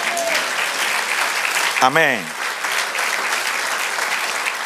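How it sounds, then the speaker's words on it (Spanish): A church congregation applauds the Lord during a Spanish-language sermon, steady dense clapping filling the room throughout, with a voice briefly calling out over it partway through. "Dele aplauso al Señor."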